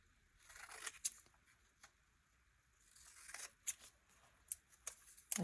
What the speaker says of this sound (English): And I think I'm gonna cut them